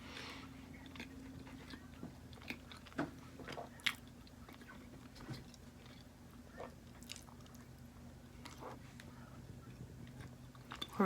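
Someone quietly bites and chews a double egg yolk lotus mooncake, with soft, irregular, close munching and small crunches against a faint steady background hum.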